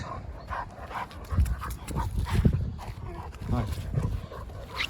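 A dog whimpers and yips excitedly in short, high whines, mixed with panting and movement, while a person talks nearby.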